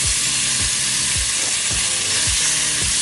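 Onions and carrots sizzling in a spice-coated pot, a loud steady hiss with regular low thumps from a spoon stirring roughly every half second, no voices.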